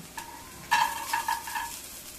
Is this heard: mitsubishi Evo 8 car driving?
no